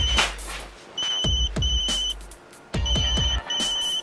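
A phone rings with repeated electronic tone bursts, each a short pulsing chirp pattern, clear and close, with brief gaps between rings.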